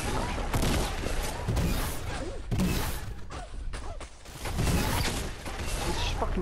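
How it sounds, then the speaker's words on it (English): Gunfire in Fortnite Battle Royale during a duos match, a dense rattle of rapid shots and impacts in several loud bursts with brief gaps between them. "He's just fucking shooting it in here."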